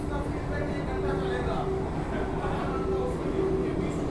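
A Vande Bharat express running on the Mysore–Chennai line, heard from inside a business-class coach as a continuous loud rumble with a steady tonal hum, sustained and even throughout.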